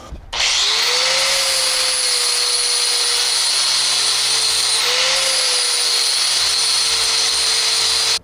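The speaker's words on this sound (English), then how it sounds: "I'm gonna get the flap disc and start cleaning it up" A flap disc on an angle grinder grinds down a steel trailer frame in a loud, steady high whine, running continuously with a brief dip midway before cutting off at the end.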